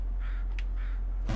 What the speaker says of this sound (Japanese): 外にもカラスいるね